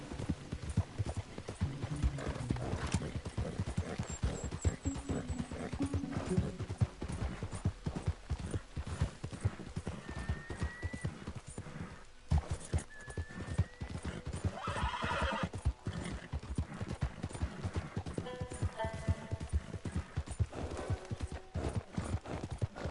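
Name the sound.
horse hooves clip-clopping while riding, from video game Red Dead Redemption II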